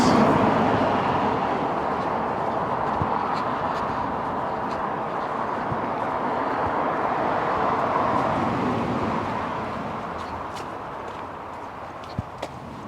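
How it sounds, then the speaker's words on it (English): Traffic on the A48 road drones steadily from nearby, a broad continuous roar that slowly fades as a walker moves away on foot, with light footsteps and faint birds toward the end. "we quickly leave the noise of the A48 behind us"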